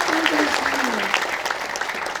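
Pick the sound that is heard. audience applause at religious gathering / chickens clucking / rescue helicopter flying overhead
audience applause at religious gathering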